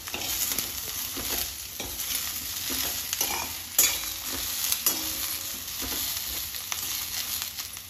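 Washed green pea pods tossed and stirred in a hot pan, a dense sizzle with rhythmic scraping and clattering as a spoon turns them, close up throughout.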